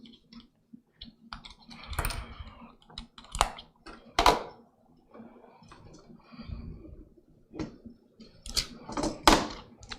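A rechargeable wireless keyboard and mouse being handled and set down during a computer build: irregular clicks, taps and soft thumps, close and sparse, with no talking.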